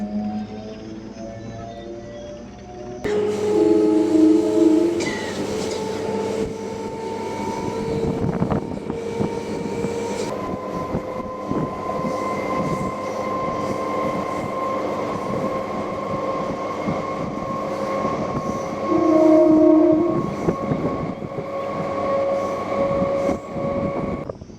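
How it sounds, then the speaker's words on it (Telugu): A Kadapa–Arakkonam MEMU electric multiple-unit train rumbles along steadily after pulling out of a station, with continuous wheel and carriage noise, a few louder tonal whines, and no talking. "మంటపంపల్లి నుంచి మన ట్రైన్ బయలుదేరింది"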